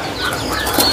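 A green leafbird (cucak ijo) at a kiosk in Pramuka bird market begins to sing, giving a brief burst of bright, high chirps and warbles over a busy market murmur.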